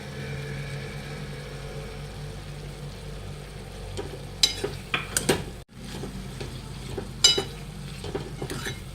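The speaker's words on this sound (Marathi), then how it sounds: "त्याच्यात आता लसूण आणि आलं ठेचून घेतलेलं टाकूया." Crushed garlic and ginger go into a frying pan while making medu vada, giving a quiet background followed by a cluster of close clatters, scrapes and sizzle, then a few more stirring knocks, with no talking.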